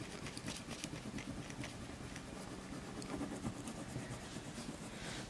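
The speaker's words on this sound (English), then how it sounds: "then just repeatedly rub over your transfer" A stick rubbed back and forth over a transfer on a shabby chic headboard gives a steady, close scratchy friction that continues evenly and without pause, with no voices.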